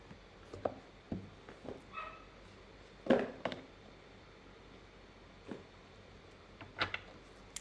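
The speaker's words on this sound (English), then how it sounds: "The dog." A dog barks in a few short, separate bursts at moderate distance, with quiet gaps between the barks and a faint whimper-like yip near the start.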